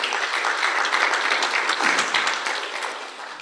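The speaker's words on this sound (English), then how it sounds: "Dr. Eugene, please a round of applause." A conference hall audience at a climate finance summit gives a sustained round of applause, many hands clapping loudly and continuously before slowly tapering off, with no talk over it.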